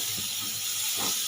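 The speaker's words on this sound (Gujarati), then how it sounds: "અહીંયા આપણે હવે ભાજી ઉમેરતા જઈશું અને હલાવતા જઈશું।" Fenugreek greens tipped into a hot pan for a Kathiawadi-style methi bhaji and stirred, giving a steady bright sizzling hiss with a couple of soft thuds from the stirring.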